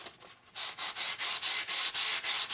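Sandpaper rubs paint off an RC airplane part, likely for an F-86 model build. After a quiet start it sets into a steady back-and-forth rhythm of about ten close, loud, raspy strokes with no talk.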